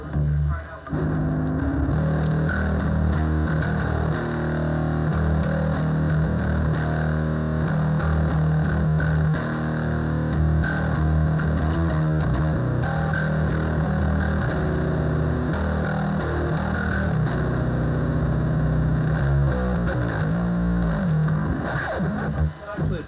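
Bass guitar played through a limiter compressor and a distortion pedal, a thick, steady, distorted low tone sustained at even loudness throughout.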